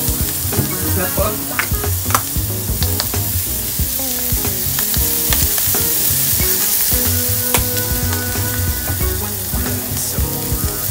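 Red onions sizzle and crackle steadily in a hot pan, frying loud and close with stirring clinks and scrapes, no talk over it.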